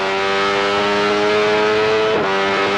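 A Benelli 350cc racing motorcycle at the Manx Grand Prix, recorded on board: a loud, sustained high-pitched engine wail held near its 13,000 RPM redline, with a brief dip as the revs shift before it climbs again.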